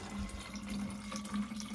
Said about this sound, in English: First thing you do is you fill up with water to the max fill line